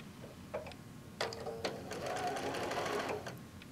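A sewing machine stitches down a quilt block of fat-quarter fabric, running in a steady mechanical whir after a few short starts, near and moderately loud with no talk over it.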